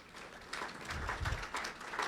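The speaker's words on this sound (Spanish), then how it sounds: "Un aplauso para el panel, por favor." A crowd at a panel presentation breaks into moderate applause that swells after a brief moment and continues steadily, with dense overlapping claps.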